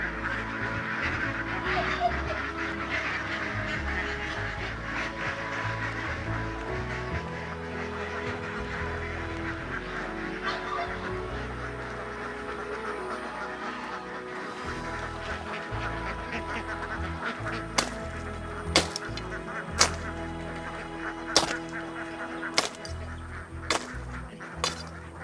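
Ducks in a breeding and rearing yard for exotic birds quack on and off against a busy background, with a run of sharp knocking sounds toward the end.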